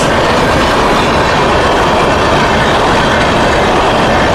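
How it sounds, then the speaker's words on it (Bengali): A loud, continuous roar of the Howrah–Mumbai Gitanjali Express passenger train rushing past close by at nearly 100 km/h, wheels rattling and clattering on the rails throughout. "এটা কোন ট্রেন আসছে তবে ভালো স্পিড আছে ট্রেনটার"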